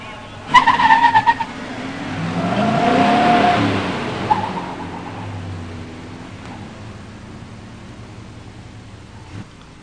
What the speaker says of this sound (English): In the near lane, Jeff Bersier's 69 Trans Am Ram Air 4 4-speed. In the far lane, Greg Rothermel's 86 Mustang 302 5-speed.